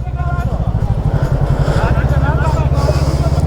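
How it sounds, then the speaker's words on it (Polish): Off-road motorcycle engine running with a steady, pulsing low rumble close by, continuous throughout while voices talk over it. "Przecież mamy motocykl offroadowy."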